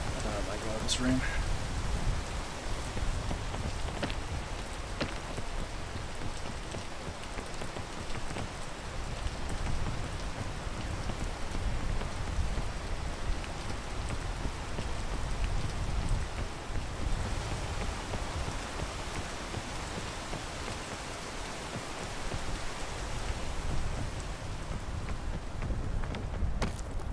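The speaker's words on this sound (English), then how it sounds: "Oh my god, this rain." Heavy rain pours down in the video game PEAK, a dense steady hiss with scattered droplet patter, continuous and moderately loud, with faint speech now and then.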